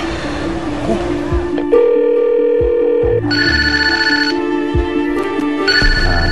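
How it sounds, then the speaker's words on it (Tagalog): A telephone rings with repeated electronic ringtone bursts in an indoor school setting, loud and close, with people talking over parts of it. "may tumatawag, pwedeng pakisagot mo na."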